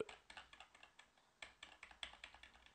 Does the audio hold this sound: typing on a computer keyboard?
yes